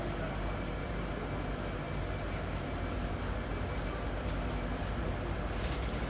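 Steady low rumble and broadband roar inside an LNER InterCity 225 Mark 4 train as it accelerates slowly, a continuous even rolling noise with no distinct events throughout.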